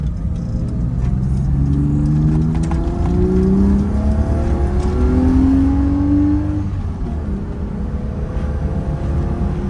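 A BMW E30 engine drones and revs on the road, rising and falling through the gears, loud and continuous from inside the car with no talking.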